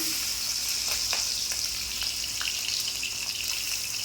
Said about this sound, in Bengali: যে মাছটা কড়াই দিয়ে দিলাম